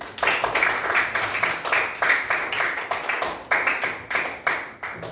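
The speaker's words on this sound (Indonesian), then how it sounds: "Tepuk tangan dulu." Classroom children clapping hands for their classmates' group work, a steady run of sharp, fairly close claps in uneven bursts, loud and continuous with no talk over it.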